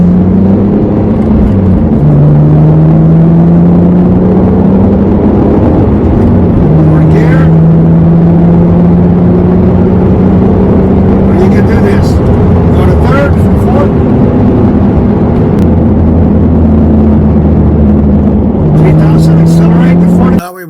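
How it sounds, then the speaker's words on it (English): A car engine during break-in repeatedly revs up and then drops back under engine braking, rising and falling drones in smooth cycles, loud and close from inside the cabin, with someone talking over it. "Start the engine braking sequence from 4200 RPM down to 2500 and go right up, accelerate smoothly"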